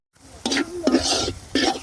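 Meat sizzling in a pot at a family picnic while a utensil stirs it, giving three scraping bursts over a steady, close sizzle.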